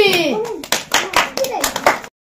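A small group, including children, claps for a prize winner during a home game of blowing a ball off a bottle into a water glass, a short burst of uneven, loud claps under voices.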